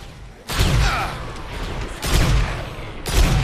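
Shotgun fire in the video game Dead Rising 4, three loud booming blasts spaced about a second apart, each with a long rumbling tail, over a constant background of game noise.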